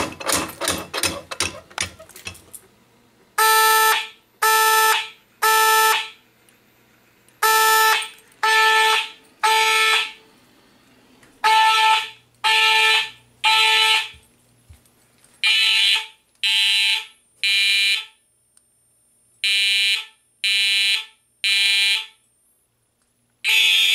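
A fire alarm system under test sounds repeated loud electronic beeps in groups of three, a steady temporal pattern repeating with short gaps, preceded by a quick burst of rapid pulses.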